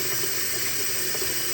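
Tap water runs steadily over boiled eggs in a sink, giving a continuous close hiss and splash with no break.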